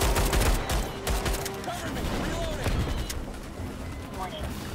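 Gunfire in the sci-fi shooter Starship Troopers: Extermination: rapid bursts of weapon fire crackle through a dense, loud battle mix with constant background combat noise and a voice speaking over it.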